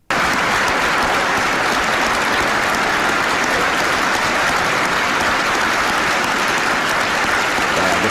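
Sustained applause from a recorded audience at a prayer breakfast fills the room, steady and dense from start to end without letting up.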